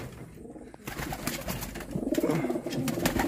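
Racing pigeons cooing close by, soft throaty rolling coos repeating in the second half over a dense background of flapping and shuffling.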